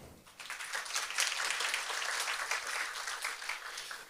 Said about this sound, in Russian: Спасибо, не стесняйтесь хлопать.